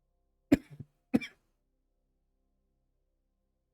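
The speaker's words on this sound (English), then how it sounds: "Ooh, I apologize about my coughing." A person gives two short, close coughs about half a second apart, each trailing off quickly, followed by near silence and a faint noise at the very end.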